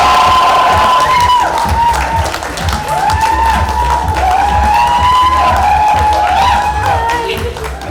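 A Bollywood red carpet audience applauds and cheers steadily and loudly throughout, with whoops and shouts rising above the clapping.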